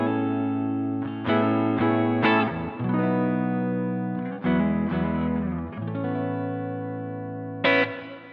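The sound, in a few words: guitar through Boss ME-90 stereo reverb effect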